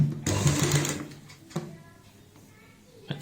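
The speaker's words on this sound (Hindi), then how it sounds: "अब हम ऊपर से यहाँ पे एक पैर चौड़ाई वाली सिलाई लगा देंगे।" A sewing machine runs a short burst of stitching across the top of a baby frock with a frill, then stops. Clicks and fabric handling follow.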